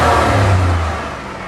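Engine of a 1989 Honda Acty kei van with all-wheel drive revving up loud and close, a strong mid-pitched roar that eases off as the revs fall.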